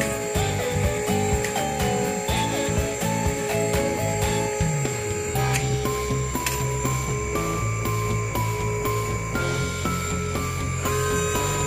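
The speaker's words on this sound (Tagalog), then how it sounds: "Butasan muna natin yung mga ngipin para hindi siya matanggal." A dental lab drill whines continuously while boring holes into denture teeth, its pitch shifting up and down as the bit engages, steady and close with no talking.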